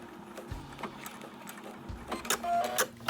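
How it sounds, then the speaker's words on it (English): A domestic sewing machine back stitching along the seam of a bomber jacket, its motor running in short bursts with a steady mechanical hum and light clicking, close and fairly quiet. "I'm going to go to about there and we're going to back stitch."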